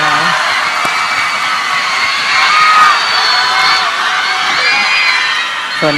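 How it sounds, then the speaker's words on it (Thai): A loud crowd at a Thai stage show cheers and shouts continuously, with high excited voices and whoops layered together; clapping is not clearly distinct beneath the cheering. "ขอบคุณและขอเสียงปรบมือให้กับ"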